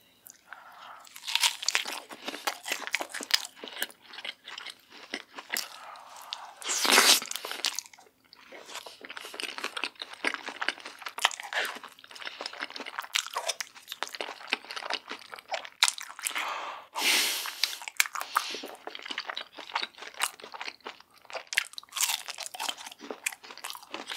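Close, loud crunching and biting on cheese packed with peanuts, eaten mukbang-style: dense bursts of crisp chewing in an irregular rhythm, with two heavier crunches standing out, and no talking.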